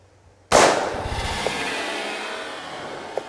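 A single loud .357 Powerball gunshot fired at a soda bottle at a 7-yard outdoor range, a sharp crack followed by a long, fading rumble, alone and close.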